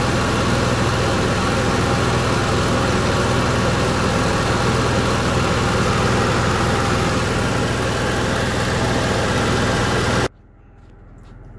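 An Onan Marquis Gold 5500 generator runs with a loud, steady engine drone and hum, close by and without talk, then cuts off abruptly near the end into near silence.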